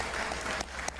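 A live audience applauds at a political event, a brief burst of clapping that stays fairly even and close, with a slight dip midway and no voices.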